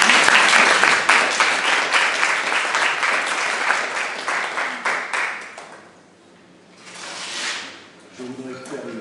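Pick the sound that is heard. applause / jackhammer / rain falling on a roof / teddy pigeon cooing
applause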